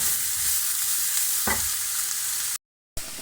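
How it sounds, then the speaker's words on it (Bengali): Chopped chickpea greens hit hot oil with a steady, loud sizzle and a stirring scrape, broken by a brief silent gap near the end before the frying resumes. "চপ করা শাকগুলো আমি এখন ফ্রাই তেলের ভিতরে দিয়ে দেবো।"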